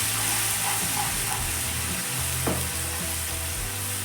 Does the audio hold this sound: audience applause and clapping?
no